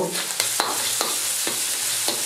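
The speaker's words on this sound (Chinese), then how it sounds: "然后加入勺豆瓣酱炒出红油" Chili bean paste stir-fried in a hot wok for char siu pork until the oil turns red, a loud sizzle broken by about five sharp rhythmic scrapes of the spatula, close up with no talking.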